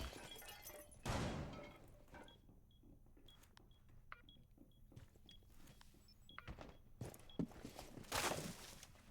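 Glass shatters in a Rainbow Six Siege competitive playoff match on the Chalet map: two sharp, loud breaking bursts near the start and end, with faint clicks and small impacts between them and no talk.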